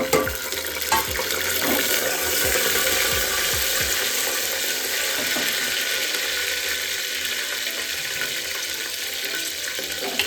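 Green chillies fry in hot oil for a simple pulao, giving a close, continuous sizzle with a few stirring knocks early on before the hiss settles into a steady wash.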